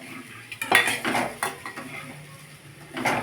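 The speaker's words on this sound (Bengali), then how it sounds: "আর যেহেতু আমি সাবু ফ্রাই করছি" A utensil scrapes and clatters against a pan while sago is stir-fried, with several close metallic knocks and scrapes in an irregular rhythm and no talking.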